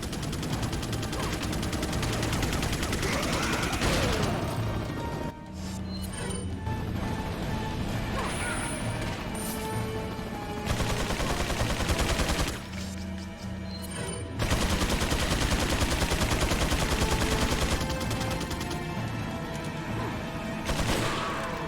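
Gunfire and crashing impacts in Resident Evil 4 HD, with a chain gun firing in loud, dense bursts separated by brief pauses and mechanical clatter, continuous through the scene.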